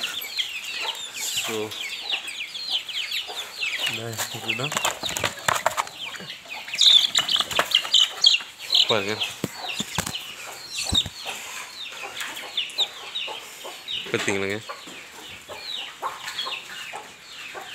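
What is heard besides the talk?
native rooster chicks clucking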